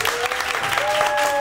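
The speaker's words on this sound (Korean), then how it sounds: "격려의 박수를 한번 부탁드리겠습니다." Audience applause fills a taphouse after a band's set, a dense, steady wash of clapping for the whole stretch with a faint sustained tone running through it.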